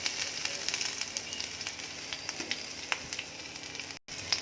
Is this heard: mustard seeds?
yes